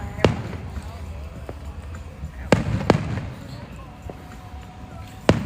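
Fourth of July fireworks bang in several sharp, separate bursts at uneven intervals, with a few louder reports standing out over steady background noise and crowd voices.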